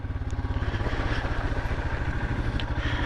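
A motorcycle ridden through puddles in winter, its engine pulsing steadily and close by as the rider drops a gear, with a brief shift in the rhythm of the engine note.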